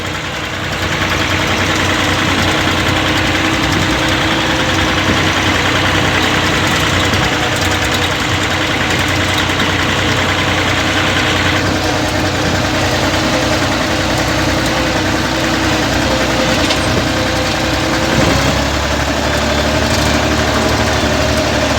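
A tractor engine runs at a steady idle, heard from inside the cab with the back open, on a farm plantation. The heavy, continuous drone stays close and loud for over twenty seconds, with no talk.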